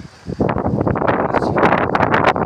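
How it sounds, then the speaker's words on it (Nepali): Strong gusty wind in worsening weather in the hills of Nuwakot, Nepal, buffets the microphone in loud, roaring bursts that continue without a break. "मौसम बिग्रेको कारणले हावा चल्ला पुरै"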